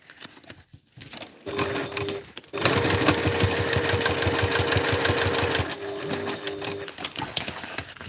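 Sewing machine top stitching a cosplay backpack with a slightly longer stitch length, starting after a few handling clicks and running in a rapid, even rattle for several seconds before slowing into lighter stitching.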